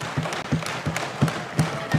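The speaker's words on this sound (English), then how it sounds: "Can you just give her a round of applause, please?" Parliament members applaud a Minister of State with steady rhythmic thumping and clapping, about three beats a second, moderately loud with a murmuring chamber behind it.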